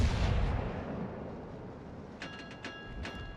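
Naval gunfire from a KGV battleship firing high explosive shells in World of Warships, a deep rumbling boom at the start fading into a long low roll, then several short sharp cracks later on, moderately loud.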